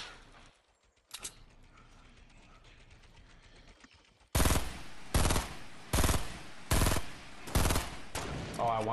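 Gunfire in the Fortnite battle royale game: after a quiet stretch with a single early crack, a loud rapid volley of about six sharp shots rings out in quick succession.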